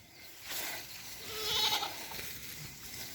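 Goats on a farm, let out onto a Ruzi grass pasture, give a faint, distant bleat or two against soft outdoor ambience.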